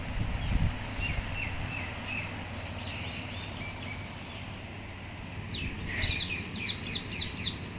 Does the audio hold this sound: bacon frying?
no